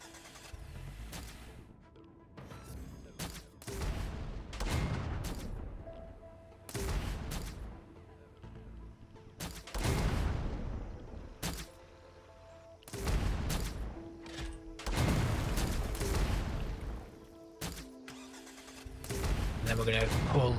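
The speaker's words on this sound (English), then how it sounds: "They have a heavy machine gun and a bolt thrower." Heavy machine gun and bolt thrower firing in the Endzone 2 survival strategy game, repeated bursts of gunfire with engine rumble between volleys, under a voice talking.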